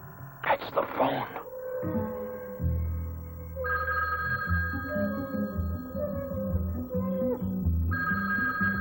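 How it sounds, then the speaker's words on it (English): A telephone bell rings in a dated early-1970s setting, with a burst of sharp ringing near the start and tonal ringing returning through the middle and end, heard among voices and other room sounds. "That's the phone."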